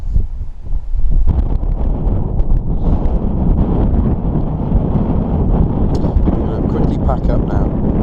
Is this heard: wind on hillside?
yes